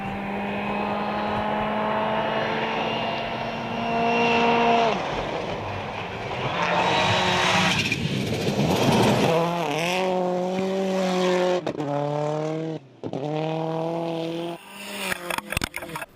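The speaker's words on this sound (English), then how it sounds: "it's always a good sign when a car comes into view sideways like that" Rally car at the South Canterbury round of the 2018 New Zealand Rally Championship, engine droning then revving hard through gear changes as it slides sideways on a gravel stage, loud and close, pitch rising and falling with each shift.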